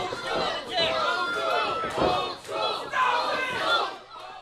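Wrestling crowd at a Mid-States Wrestling event roaring and yelling in a sustained loud wave, fired up ahead of a match, with scattered shouts rising and falling throughout.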